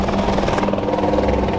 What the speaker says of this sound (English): We got the police helicopter.